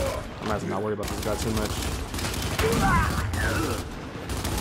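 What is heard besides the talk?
Lancer rifle gunfire in the video game Gears 5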